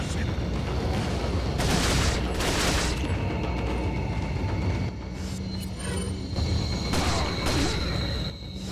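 TMP gunfire in Resident Evil 4, dense bursts of rapid game gunshots over a constant loud mix of game sound, with mechanical clicks between bursts.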